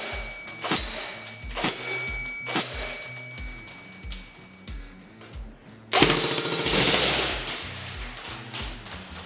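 A Classic Army DT4 double-barreled airsoft M4 fires, first as three spaced loud mechanical bursts with quieter clatter between them, then as a dense, continuous full-auto stream lasting about three seconds.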